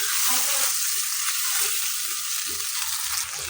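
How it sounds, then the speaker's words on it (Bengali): Homemade tomato sauce being stirred into pasta in a hot pan, giving a constant loud sizzling hiss with soft scraping stir sounds underneath. "সসটা মিক্স করে নিচ্ছি।"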